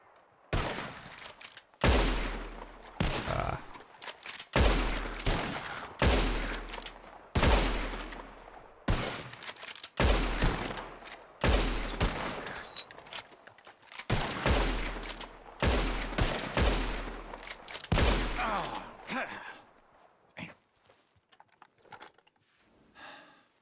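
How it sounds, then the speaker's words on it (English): Repeated gunfire in a Red Dead Redemption 2 shootout: sharp, loud shots in quick bursts and clusters with short gaps, trailing into scattered quieter shots near the end. "As soon as you see him, start shooting."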